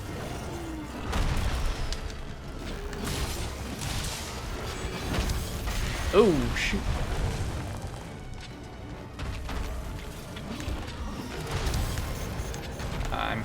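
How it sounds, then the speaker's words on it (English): Explosions boom and crash in the Monster Hunter World Iceborne Guiding Lands amid creaking, mechanical game noise, with a sharp blast standing out midway over constant dense background action; a player briefly exclaims. "I'm glad that those explosions didn't blow me away."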